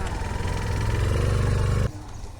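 A motorcycle carries riders along a rural road, its engine droning steadily with wind noise before the sound drops abruptly to a quieter rumble near the end.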